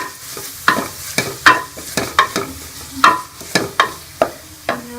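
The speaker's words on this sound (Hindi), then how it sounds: "अब इसके अंदर मैं ये लहसुन अदरक का पेस्ट भी डाल दूंगी और इसको भी इसके अंदर फ्राई कर लेंगे।" Garlic ginger paste frying with onions in a karahi, with steady sizzling under sharp, repeated scraping strokes of a stirring spoon against the pan, close and loud.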